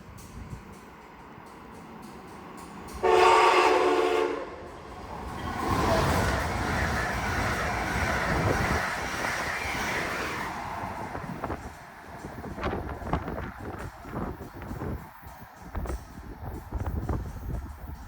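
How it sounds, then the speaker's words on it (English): A southbound Amtrak Acela passes Odenton, Maryland: a brief loud tone sounds early, then a broad rushing roar swells and holds for several seconds before easing into lighter rattling clatter. "And now a southbound Acela."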